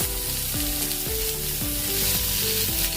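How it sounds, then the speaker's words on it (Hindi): Tomatoes tipped into frying onions set off a loud, dense sizzle that holds steady for the whole stretch, close by, with faint stirring and scraping sounds running underneath and no one talking. "अभी इसमें हम टमाटर डाल देंगे"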